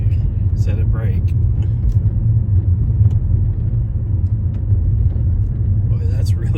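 A car rolls over a rough, bumpy stretch of Route 66, giving a steady heavy low rumble of tyres and cabin noise from inside, with people talking briefly over it.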